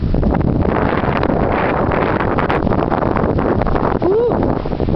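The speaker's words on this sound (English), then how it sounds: "Just another windy day" Strong wind buffets the microphone on a windy day in a garden, a loud continuous roar with rustling and a brief voiced sound near the end.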